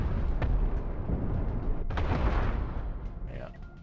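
Heavy cannon fire from a warship in the space game Cosmoteer, dense rumbling booms and bursts rolling continuously, with a sharper blast near the middle, while a voice talks over it.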